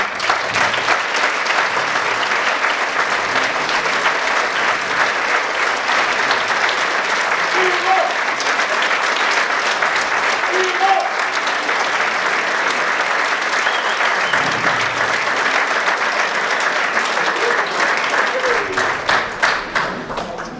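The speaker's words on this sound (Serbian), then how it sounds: "Molim Darka i njegove sinove da izađu na scenu, ne bi li ih pozdravili jednim velikim aplauzom" A concert audience at an annual folk dance ensemble show gives a long, loud round of applause as performers walk on stage, dense steady clapping that carries on for about twenty seconds with a few voices briefly heard.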